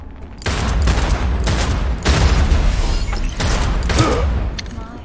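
Loud bursts of gunfire in the video game Cyberpunk 2077, with rapid volleys of automatic shots and booming impacts coming in several waves, close and dense, with no talk over them.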